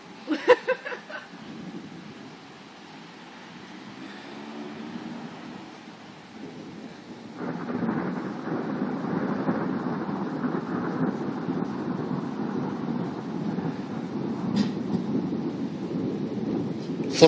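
Thunder during a summer thunderstorm, a broad low rumble that swells and keeps rolling at a distance, with a brief crackle at the start and wind noise throughout.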